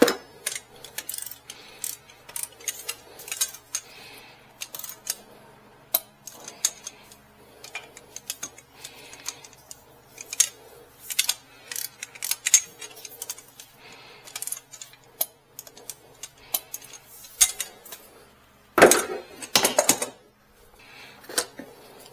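A torque wrench tightens cylinder head bolts to 22 foot-pounds on a 2007 Toyota Tacoma, giving sparse, close ratcheting clicks and short metallic tick bursts, with one louder clack near the end and no talk.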